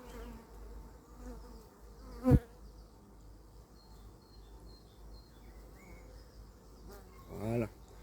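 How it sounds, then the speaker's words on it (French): A dense, steady buzz of many honeybees on a hive frame fills the air, close and continuous, with a couple of brief sharper sounds cutting through. "on peut voir les abeilles qui sont sur le cadre"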